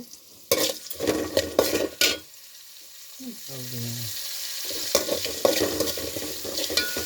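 Onions fry in a pan with red chili, green chili and spices, a soft sizzle broken by bursts of stirring and scraping, with a brief voice in a quiet gap.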